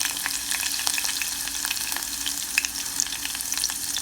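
Chilies dropped into hot oil for Mangalore-style mango pickle crackle and sizzle up close, a busy continuous spatter of small pops with occasional stirring, no one speaking.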